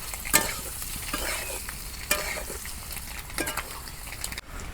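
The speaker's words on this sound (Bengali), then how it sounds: "আমি যেভাবে ডিম ভাজতেছি আপনারা ওইভাবে ভাইজা নেবেন" Eggs frying in a pan for a sweet gourd and egg curry, a soft continuous sizzle with occasional spatula scrapes and taps, close but quiet, with no talking.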